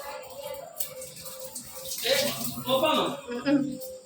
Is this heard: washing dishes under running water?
yes